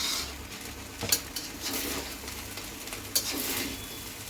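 Fried rice with ghee cooking in a large wok, a steady soft frying hiss with scattered metallic clinks of a spatula and utensils against the pan, two sharper scrapes standing out.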